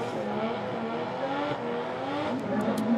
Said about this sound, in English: So 4 new cars are coming for the warm-up.